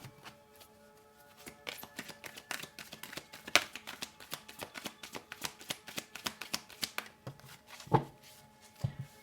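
Tarot cards are shuffled by hand, quiet rapid riffling and tapping in irregular bursts, with a few sharper slaps as cards spill out.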